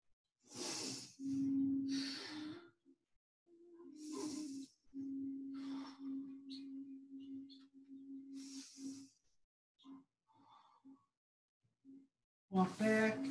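Deep, slow breaths in a yoga child's pose come in long, hissing inhales and exhales with audible sibilant airflow, close and quiet, repeated several times with brief pauses between.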